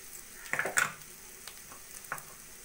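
Shrimp cooking with coconut and mustard in a pan, a soft low sizzle punctuated by a few brief stirring scrapes and clinks, close by.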